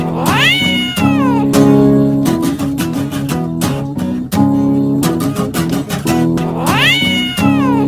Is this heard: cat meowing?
yes